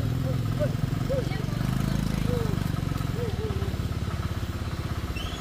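A tractor engine chugs steadily as it drags a harrow across a field, a close, rhythmic mid-pitched putter running throughout while people talk over it.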